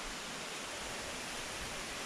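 Water flows behind a hot spring site at Tato Pani in Sikkim, making a steady, unbroken rushing hiss like a stream or small waterfall, with no voices.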